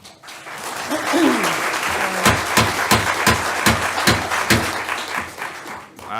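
Audience applause at a city board of mayor and aldermen meeting in Franklin, a dense continuous clapping that fills the room, with a few louder sharp claps standing out near the front and no voices over it.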